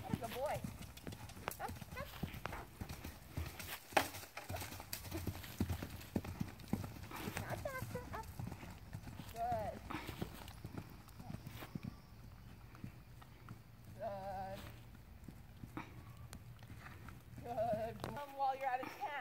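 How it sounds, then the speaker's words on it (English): A horse canters around a home riding area, its hooves clip-clopping in a steady, fairly close rhythm throughout, with people talking over it and a few animal bleats in between. "His canter's very cute."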